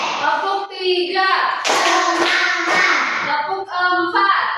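A classroom of children does a concentration clap, with bursts of rhythmic group hand clapping set against a steady background of children's voices and classroom chatter.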